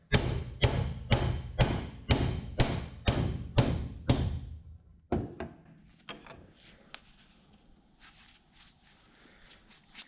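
A bearing is driven into a John Deere GX75 mower deck spindle housing: about nine loud, evenly spaced heavy thuds, then a few scattered lighter knocks and faint clatter.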